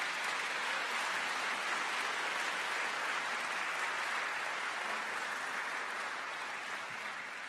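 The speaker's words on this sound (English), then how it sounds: "let's give a round of applause to anybody who's a teacher." A large audience at a school district's State of the District event gives sustained applause honoring teachers, a broad, even wash of clapping across the whole stretch with no talk over it.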